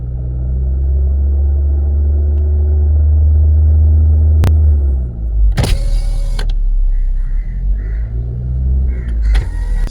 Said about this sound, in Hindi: जब हल्का सा भी 2000 आरपीएम पे भी होती है तो गाड़ी का साउंड अंदर आता है